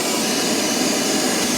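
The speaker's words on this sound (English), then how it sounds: "we're gonna go ahead and vacuum up all the metal shavings and plastic bits and just clean up the area" A vacuum cleaner roars with a loud, steady broadband hiss while cleaning up metal shavings and plastic bits in a BMW F30 footwell, then cuts off sharply.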